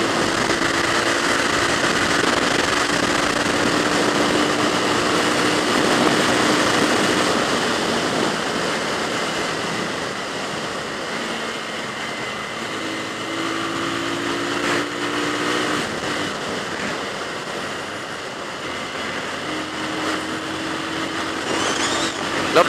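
A Bajaj Pulsar 220 motorcycle engine drones steadily while riding on roads near Pokhara, Nepal, heavily mixed with wind rush, loud and continuous throughout, with subtle shifts in pitch.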